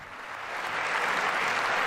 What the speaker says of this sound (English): By the way, we've already got clapping.